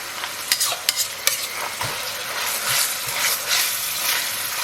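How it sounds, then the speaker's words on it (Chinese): Minced meat stir-fried in hot oil in a wok, giving a steady sizzle with scraping spatula strokes and a few sharp clanks near the start, close and clear with no talking. "油热以后啊，咱们给锅里边来点肉末，先给它炒香。"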